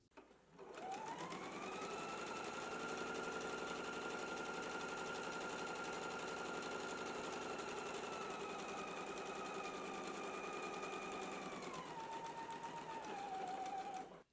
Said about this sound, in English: now we can go ahead and stitch it using a 5/8 of an inch seam allowance